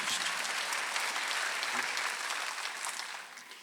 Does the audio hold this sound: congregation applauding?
yes